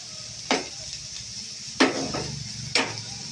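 Onion for paneer bhurji fries in a pan under a soft continuous sizzle, broken by three sharp metallic scrapes and knocks of a spatula against the pan, close and with no talk.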